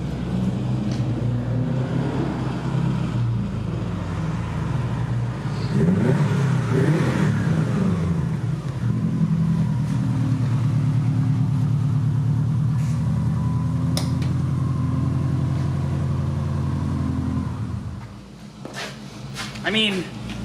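Subaru STI car engine on a road test drive, with a steady mid-low drone that swells and rises around the middle before easing off near the end, continuous and fairly loud beneath speech.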